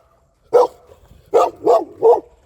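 A dog barks four times nearby, one sharp bark followed after a pause by three quick evenly spaced barks, loud against an otherwise quiet room.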